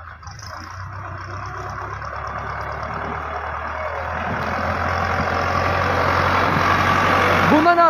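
A farm tractor engine rumbles steadily in the open during ryegrass sowing, growing louder as it approaches, with people talking over it.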